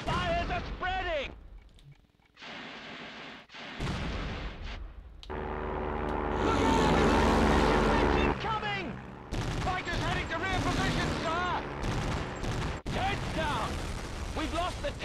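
In The Great Escape on PlayStation 2, bursts of heavy gunfire and explosions pound an aircraft under attack. Loud volleys come in clusters with short gaps, mixed with engine rumble and urgent shouted voices.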